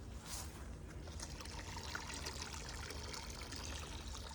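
Water from a VEVOR hand pump runs steadily into a bucket as a continuous low splashing and trickling stream, with no talk.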